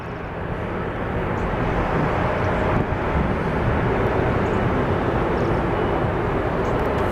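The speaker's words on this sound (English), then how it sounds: "Our Korean 787." A Korean Air Boeing 787 airliner passes during plane spotting in Seattle, producing a loud, broad, steady engine roar that builds slightly and holds with no speech.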